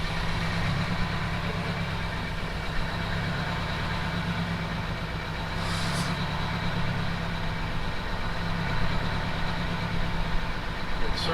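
Boat engine running after repair, a steady mid-pitched idling drone with rhythmic knocking pulses, close and continuous, with a couple of brief higher noises partway through.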